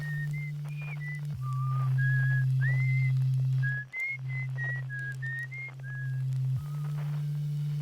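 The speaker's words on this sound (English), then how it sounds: "Wait, the whistle." Whistled melody from a planet's moon in the space exploration game Outer Wilds, a thin, airy tune of short held notes stepping up and down over a low steady drone, clear and unaccompanied by speech.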